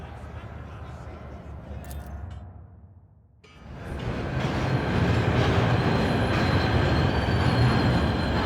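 A train in the game Warhammer 40,000 Rogue Trader rumbles up and rolls past with rising noise, a steady rail clatter and faint wheel squeal, while voices talk over it.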